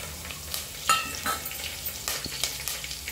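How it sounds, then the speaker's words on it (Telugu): Curry leaves crackle and sizzle in hot oil for a veg khichdi, with a steady frying hiss broken by sharp pops and a few stirring scrapes, close and moderately loud with no talk. "కలమాకులు వేసేస్తున్నా."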